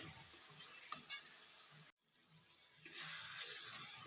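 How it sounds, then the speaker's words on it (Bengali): Spices for a rui fish kalia sauté in a pan, a steady soft sizzle with occasional scraping stirs, broken by a brief near-silent gap before the frying hiss returns brighter. "এবার আমি দিয়ে দিচ্ছি মশলাগুলো দিয়ে ভালো করে কষে নিই কষে নিচ্ছি আমি"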